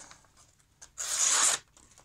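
A factory-sharpened Kizlyar Taran knife slicing through paper, heard as one brief, close tearing swipe of about half a second, with faint rustling of the sheet before it.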